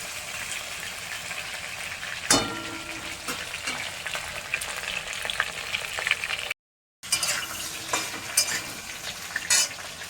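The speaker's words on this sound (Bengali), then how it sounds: "আলুগুলো এরকমই থাকবে, একটু ভাজবো, লাল লাল হয়নি, লাল লাল করবো" Potatoes fry in a pan for a ridge gourd curry, with continuous close sizzling, a sharp clank of a utensil early on, stirring scrapes, and a brief break in the sound partway through.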